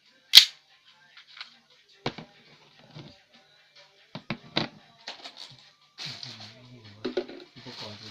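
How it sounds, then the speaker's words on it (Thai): An M1911 BB pistol dry-firing with no BBs loaded gives sharp, isolated snapping cracks, one loud near the start and several softer ones spread irregularly, with quiet handling clicks and some talk between them. "แต่เราสามารถทำให้มันยิงได้ครับยิงเปล่าโดยที่ไม่ต้องใส่ลูก"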